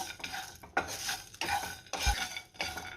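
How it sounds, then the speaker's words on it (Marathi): Whole spices dry-roasting in a pan without oil, stirred in a steady series of scraping, rattling strokes about every half second, close and clear with no talking. "सगळे खडे मसाले मी एकदाच घातले आणि हे चांगले कोरडेच भाजून घ्यायचे, तेल अजिबात वापरायचं नाही।"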